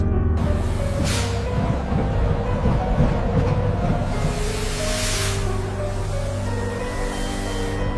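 A train running as a sound effect in an audio drama: a loud, continuous rumble with rhythmic clatter and swells of rushing noise that stay steady throughout.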